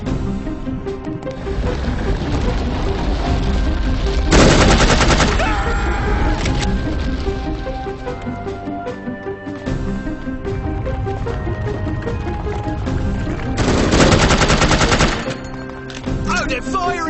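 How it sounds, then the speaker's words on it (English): Enemy gunfire in No One Lives Forever, sustained automatic bursts loud and close, with two heavier swells of rapid firing, under a continuous rumbling engine-like background and occasional voices. "Oh, they're firing on us!"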